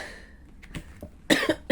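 A few short, harsh coughs: two or three bursts close to the mic, with a quieter throaty sound before them.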